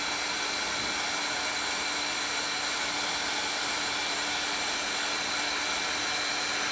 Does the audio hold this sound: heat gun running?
yes